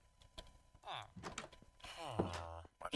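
A wooden door in the Minecraft video game opens with a short hollow thunk, quick and fairly close, among voices talking.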